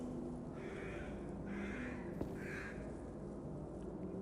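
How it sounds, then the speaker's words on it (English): A crow caws three times in The Walking Dead: The Final Season, evenly spaced harsh calls at a moderate distance over a quiet background hum, with no talking. "that bird literally sounds like it's outside my window"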